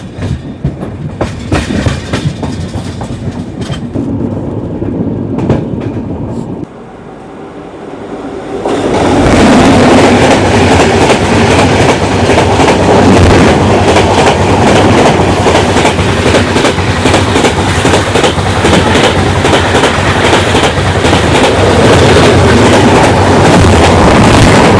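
A Falaknuma Express train rolls into Miryalaguda station in Telangana, its wheels clattering steadily and loudly with rumbling rail noise, briefly dropping before swelling into a sustained close roar for most of the stretch, no voices present.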